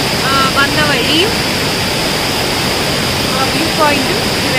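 Rushing water of Blappila waterfall in Konni fills the scene with a steady, loud broadband roar, with faint bird chirps briefly audible over the constant flow.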